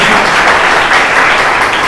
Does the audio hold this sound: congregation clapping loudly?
yes